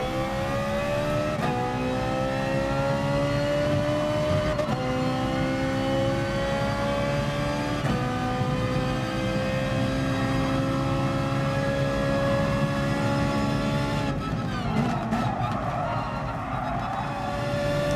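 A Ferrari 458 Gr4 race car engine in a racing video game at Suzuka drones loudly and continuously, pitch climbing through the gears with short drops at each shift, steady and close with no talking.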